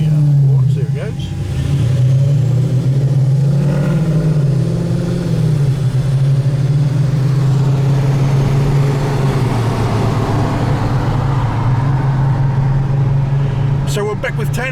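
A factory red W211 Mercedes-Benz E55 AMG pulls away from traffic lights with a deep, steady engine drone that swells and eases as it moves off, heard over nearby voices and street noise.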